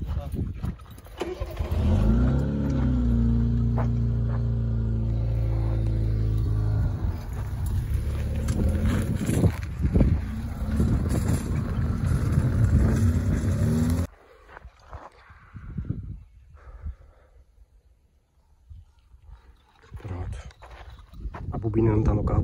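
A car's engine idles, then revs and pulls away on a rural road during a fiber-optic installation job, the motor loud and close at first before fading, with people talking over it.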